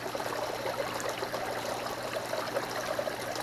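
Water flows steadily through a homemade mini recirculating sluice box, a continuous close trickling and rushing wash with no pauses and no voices.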